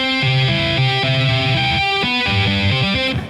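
A distorted, guitar-like synth lead from a keyboard's guitar patch with delay plays a quick melodic run of sustained, buzzing notes with a faint echo trailing behind, loud and close, with no voices.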